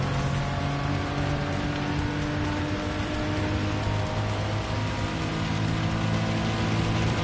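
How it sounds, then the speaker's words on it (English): Heavy rain drums steadily and loudly over a Gran Turismo 7 Le Mans road car race. A low engine drone runs beneath the dense, unbroken hiss the whole time, and no one speaks. "we're in for more rain now"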